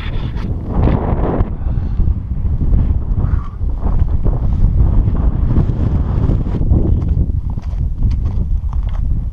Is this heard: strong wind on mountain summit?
yes